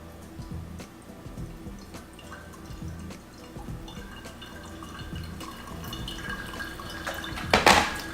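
Hot water poured gently in a circle over coffee grounds to bloom them, a soft steady trickle and drip running throughout, with a brief brighter splash near the end.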